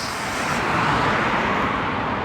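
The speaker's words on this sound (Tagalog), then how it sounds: "Ayan, nandiyan na yung bus." Steady broadband roadway rumble with engine noise from a green number 8 city bus pulling into a stop in Riyadh, Saudi Arabia, continuous and fairly loud for a couple of seconds with no talking.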